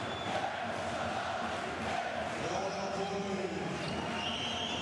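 A basketball arena crowd roars and cheers during a Champions League game, a dense, sustained wall of noise with a commentator talking over it.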